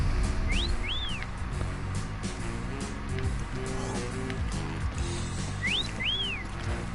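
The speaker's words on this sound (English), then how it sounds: "I do think the whistle is just that sound." A short rising-and-falling whistle from the video game Yooka-Laylee sounds twice, a few seconds apart, clear over a steady bed of game music.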